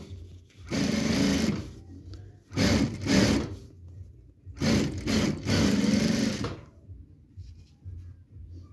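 A sewing machine runs a simple straight seam in three separate bursts of fast, buzzing stitching, each lasting a second or two, with short quiet pauses between them.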